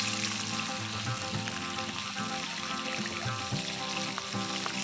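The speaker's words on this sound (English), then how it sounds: "you're not frying the fish to cook it, but just kind of to sear it on the outside" Continuous loud sizzling of hilsa fish searing in hot oil for a Bengali fish curry, a dense crackling hiss with no talking.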